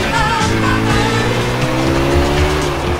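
A race car in Grand Theft Auto IV spins out, its engine droning steadily with shifting pitch and tires squealing and skidding loudly and continuously throughout.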